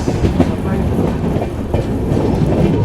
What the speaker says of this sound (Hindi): ये थी हज़रत निज़ामुद्दीन चेन्नई राजधानी एक्सप्रेस।